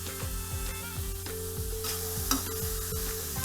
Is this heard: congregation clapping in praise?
no